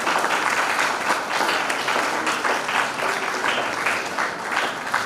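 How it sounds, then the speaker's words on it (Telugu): An audience claps steadily at a community school-enrollment event for children with disabilities. The dense applause stays sustained and even throughout. "అందరూ కూడా చప్పట్లతోటి వారికి అభినందన తెలుపుకుంటున్నాను"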